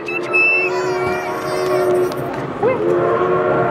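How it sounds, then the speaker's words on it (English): A ride-on choo-choo train hums with tonal, whistle-like sustained notes and a bend in pitch, fairly loud and close, with voices talking alongside in a busy indoor setting. "Look at the choo-choo train."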